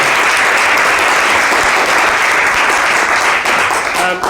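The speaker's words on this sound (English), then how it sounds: "Can we clap for Sandra?" Loud, close applause from an audience at a live script reading, a dense burst of clapping that holds steady for about four seconds before tapering off.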